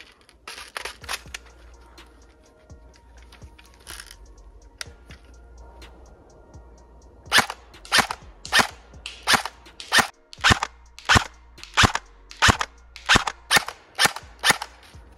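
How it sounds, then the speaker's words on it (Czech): A rapid series of sharp shots from a Specna Arms J71 Core airsoft gun, about a dozen evenly spaced cracks, following a few scattered earlier shots and quiet handling noises. "Tak se podíváme na samotnou střelbu."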